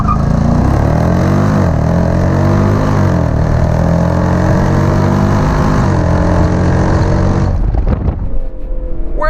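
A 475-horsepower Jeep Grand Cherokee SRT with the 392 engine launching hard, its loud engine roar rising through several gear shifts before the revs suddenly cut off near the end.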